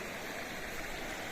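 A village river flows with a steady, broad rushing wash of water, continuous and even at moderate distance, with no other sounds.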